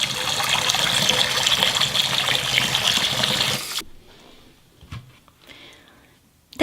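Hot tap water runs steadily into a sink during scrubbing with dish soap and vinegar, a loud close hiss that cuts off abruptly, followed by faint handling sounds and quiet talk.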